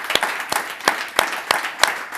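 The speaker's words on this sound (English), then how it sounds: "Please give him a warm applause." An audience at a talk on the human side of digital transformation applauds, with a bed of scattered clapping and about seven sharp, regularly spaced loud claps standing out close by, as if one person nearby claps in rhythm.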